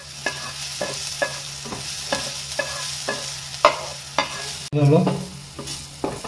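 Chopped onion fries in a pan as a spoon stirs it, with a steady low sizzle under regular scraping strokes about every half second and a louder burst of sizzling near the end; a voice briefly speaks.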